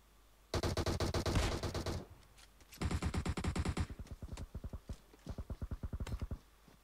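Rapid bursts of automatic gunfire in the video game PUBG, two long sustained volleys followed by a quicker run of separate shots, loud and close with no talking.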